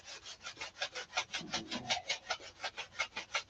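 Rapid rhythmic sanding strokes on wood, close up, slightly uneven in force, a gritty scraping repeated without pause and no speech.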